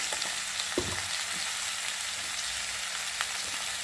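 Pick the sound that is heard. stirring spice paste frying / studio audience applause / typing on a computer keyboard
stirring spice paste frying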